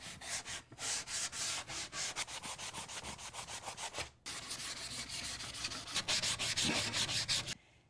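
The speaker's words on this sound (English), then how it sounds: "I'm going to do a light sand on the outside edges of this little" Hand sanding along the outside edges of a small wooden frame, close rhythmic scratchy back-and-forth strokes, a brief pause midway, then quicker strokes continuing until stopping.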